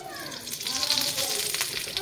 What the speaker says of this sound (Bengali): একদম হালকা আঁচে আমি সুন্দর করে আমি একটু নেড়ে চেড়ে ভেজে নেব